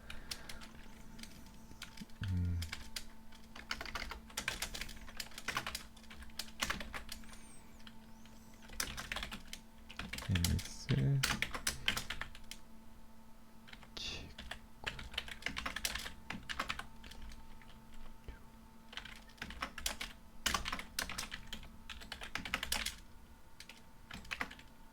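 Steady clicking keystrokes on a computer keyboard come from someone coding in MATLAB, an irregular close patter of taps and occasional heavier key presses continuing for the whole stretch with no talking.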